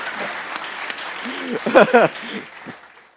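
Studio audience applause on a cricket-themed game show, a short burst of clapping that fades out, with talk and laughter-like voices cutting through the middle.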